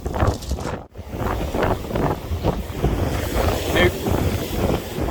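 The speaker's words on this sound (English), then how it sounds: "Bandit, you stay back from them waves." Sea waves wash onto the shingle shore at Sandgate Castle in Kent, a loud continuous surf roar with heavy wind buffeting the microphone and a brief dropout near the start.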